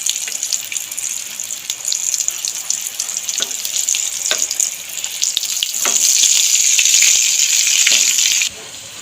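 Potato fritters (aloo bora) deep-frying in hot oil give a steady, loud crackling sizzle that grows denser toward the end and then drops off abruptly, with no voices.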